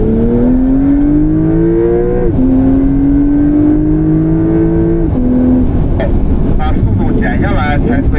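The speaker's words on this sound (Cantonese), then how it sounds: "加速啦！" A Porsche Cayman accelerates hard on a race track, its engine note climbing steadily through several gear changes with sharp drops between shifts, loud and close, with a voice talking over it.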